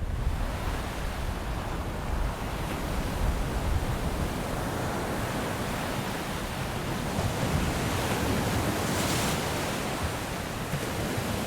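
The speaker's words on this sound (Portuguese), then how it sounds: "As ondas aqui são poderosas" Powerful ocean surf breaks on an African shore in a continuous, loud roaring wash, dense and steady throughout with no voices.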